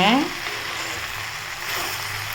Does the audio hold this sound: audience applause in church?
no